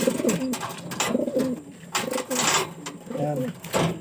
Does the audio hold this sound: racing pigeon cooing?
yes